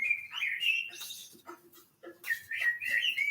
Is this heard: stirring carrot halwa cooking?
no